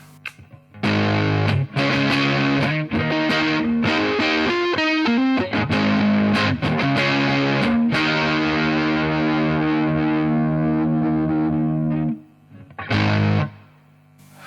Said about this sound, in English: Sounds very kind of grungy and raw, which is cool, but definitely a different kind of tone.